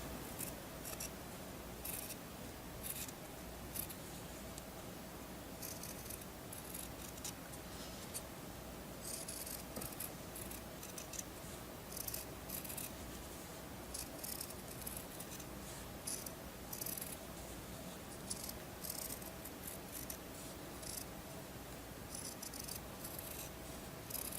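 Scissors trim closely around a stitched coaster made with a Cricut Snap Mat. Quiet, repeated snips come in irregular bursts, close up, with no voice.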